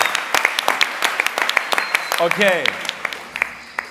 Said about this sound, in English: Little motivational applause, please, for our first contestants